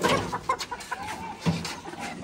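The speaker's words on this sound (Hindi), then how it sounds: "सारी मुर्गियाँ सेहतमंद हैं और बिल्कुल अंडों पे हैं" Healthy laying hens at a bird market, clucking in short, uneven bursts, heard close and moderately loud, with several overlapping birds and no speech.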